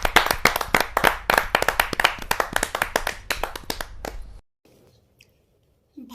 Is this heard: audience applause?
yes